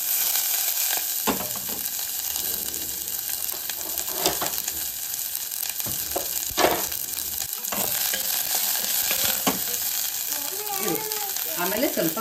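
Garlic and onion fry in a pan with a steady close sizzle, broken by stirring scrapes and clinks, while a voice talks faintly in the background.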